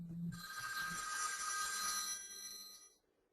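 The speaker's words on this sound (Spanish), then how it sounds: "Entonces, disculpad, ya ha sonado el teléfono." A telephone rings during a Spanish software demonstration on hospital workflow, a steady bright electronic ring that holds for about three seconds and then stops, heard alone with no talk.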